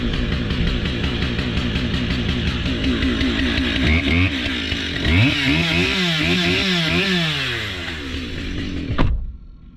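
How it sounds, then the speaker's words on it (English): A chainsaw runs loud and close just outside the open door of a 2021 GMC Sierra 2500HD pickup, revving up and down in wavering pitch sweeps before cutting off abruptly near the end. "I've got my chainsaw running outside the door. I'm going to rev the chainsaw with the door open"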